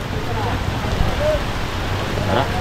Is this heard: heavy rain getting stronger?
yes